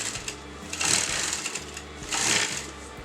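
A sewing machine stitching pieces of a Patiala salwar, running in two steady bursts of rapid mechanical chatter with a brief pause between, close and clear.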